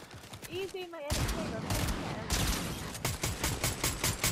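Rapid automatic gunfire in Fortnite, dense close bursts of shots after a short stretch of a voice at the start, then repeating volleys with brief gaps.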